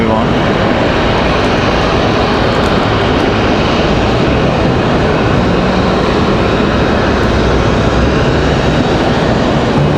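A jet airliner at the runway end of Raleigh-Durham International Airport, its engines a loud, continuous roar that holds steady throughout without letup.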